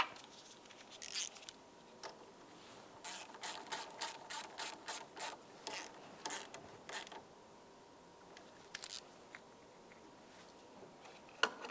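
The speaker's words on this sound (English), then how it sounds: "tighten up your 10mm mounting nut" A ratchet tightens a 10mm mounting nut on the battery terminal of a 2010-2013 Ford Transit Connect, giving a close run of quick clicking pawl strokes in short bursts with pauses between, no talking.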